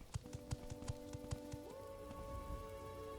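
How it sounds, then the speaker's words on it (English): Rain falling in the video game Morrowind, a steady soft patter with scattered drip clicks, plus some low sustained in-game tones beneath it and no talk. "Oh, and it's raining again."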